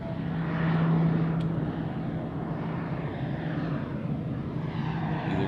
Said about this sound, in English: This is a PC-12.